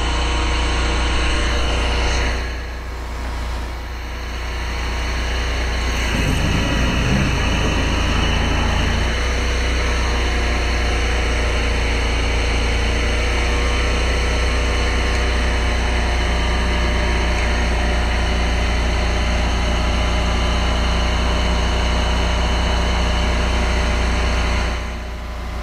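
A hydro jetter with a cutting nozzle runs steadily while clearing a blocked drain, giving a loud, continuous engine-and-water roar that holds at an even level for the whole stretch, with a brief surge of rougher noise partway through.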